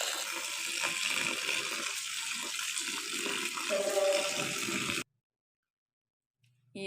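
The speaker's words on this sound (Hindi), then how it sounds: "इसी तरह बाथू में भी, बाथू और पालक में भी पानी डाल लेंगे।" Water gushes into a tub of mustard greens, spinach and bathua being washed for sarson ka saag, a steady close pour for about five seconds before it abruptly stops, followed by near silence and a faint sound at the end.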